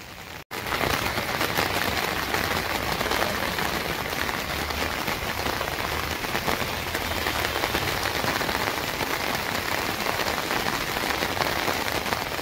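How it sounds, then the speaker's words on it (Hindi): Heavy monsoon rain in Nainital pours down steadily and loudly, a dense, continuous hiss of drops on surfaces with no voices. "तेज बारिश शुरू हो गई है"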